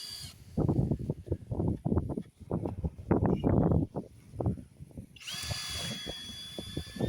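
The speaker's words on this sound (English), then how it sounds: "getting out the screws we put in it" A power drill backs screws out of a cheap, cracked piece of 2x4 lumber, whirring in repeated short bursts up close, with a steadier, higher-pitched motor run near the end.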